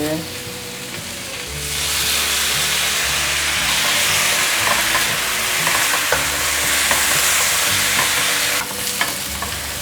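Potatoes and tofu are stir-fried quickly with curry powder, salt, white pepper and soy sauce, making a loud, dense sizzle and steam hiss with brisk spatula scrapes against the wok throughout.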